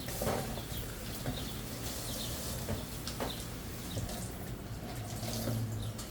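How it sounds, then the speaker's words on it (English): Water runs from a kitchen tap as a hand is rinsed beneath it, a steady close splashing hiss for several seconds with small shifts in the flow, no talking. "I'm going to rinse my hand."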